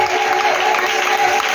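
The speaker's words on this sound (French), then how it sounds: "Il va se tenir debout et on va acclamer Jésus." A church congregation claps and cheers in praise, a dense, steady wash of applause filling the space throughout, with no gaps.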